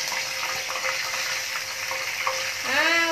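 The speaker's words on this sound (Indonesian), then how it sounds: "so kali ni cik dah nak goreng udang ni" Udang ketok shrimp frying in a pan, a loud, continuous close-up sizzle with stirring noises, ending in a brief squeak of a utensil.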